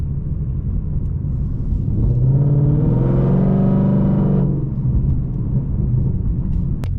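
A Pontiac G8 with a cammed LS2 V8 gives a deep, close rumble that swells into a louder rev in the middle and then settles back to a steady idle, with no voices.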